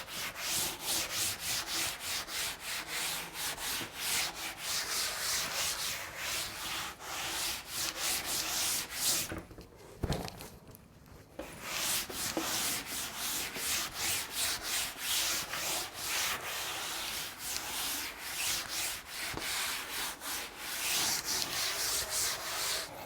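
An eraser rubbing out writing on a board, heard as fast, steady back-and-forth scrubbing strokes that continue close and loud, broken by one brief pause near the middle, with no voice.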